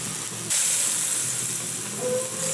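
Green and red peppers with garlic cloves hit a hot wok and burst into a loud, steady sizzle, hissing and crackling close up with a sudden rise in intensity as the ingredients go in.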